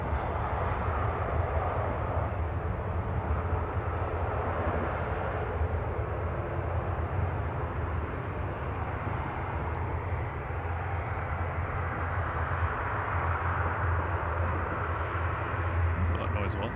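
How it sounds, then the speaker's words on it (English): At Manchester Airport, a steady, loud aircraft jet engine roar spools up and holds, a broad rushing drone with deep rumble filling the whole stretch, faint voices murmuring underneath. "I can hear someone's engine starting."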